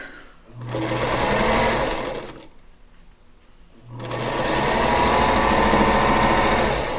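A sewing machine stitches a blue piece onto a quilt, running in two steady sustained bursts with a brief quieter pause between them, close and fairly loud with no talk.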